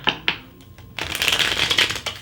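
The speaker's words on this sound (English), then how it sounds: "I just wanted to clear that by doing a couple more shuffles" Tarot cards are riffled twice in quick snaps, then shuffled continuously in a close, crisp flurry of flicking paper.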